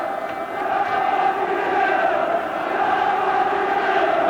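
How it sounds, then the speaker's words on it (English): A football crowd at Hillsborough roaring and cheering during a Chelsea match, a dense, sustained stadium swell that builds and holds steady, loud and continuous with a commentator's voice faintly underneath. "Just listen to the crowd"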